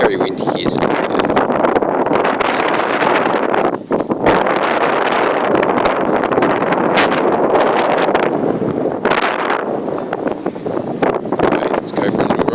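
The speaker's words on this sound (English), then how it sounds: "It's very windy here today though." Strong wind buffets the microphone in a loud, constant roar with gusty surges outdoors in Australia, and a voice talks faintly underneath.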